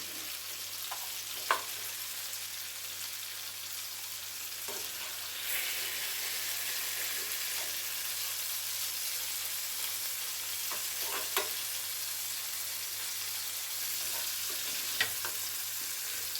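Potatoes and tomatoes cook in a pan for an onion-tomato gojju, giving a steady, soft sizzle and fry throughout, with a few faint stirring clinks scattered across it and no talking.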